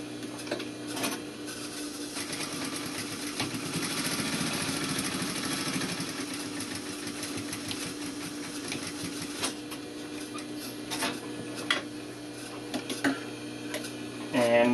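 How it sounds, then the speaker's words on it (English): A sewing machine stitches a straight line for a welt pocket, back tacking at the start and end, running steadily for long stretches with brief pauses and a few sharp clicks near the end. "Start with back tack, sew the whole length of that line, and end with a back tack, needle up."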